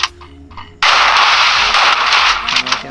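Free Fire video game gunfire aimed at the ground starts abruptly after a quieter moment, then runs as a loud, continuous burst of rapid shots until the end.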